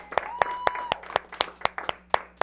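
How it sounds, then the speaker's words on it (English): Sharp, evenly spaced handclaps ring out, about ten in quick succession, with a faint tone lingering underneath. "Let's get a round of applause for the vet"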